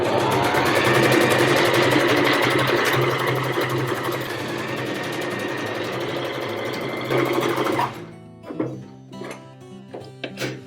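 A sewing machine runs in straight-needle mode, stitching back and forth over a hole in denim jeans with a steady, fast mechanical whir for about eight seconds, then stops, leaving a few faint clicks and handling sounds.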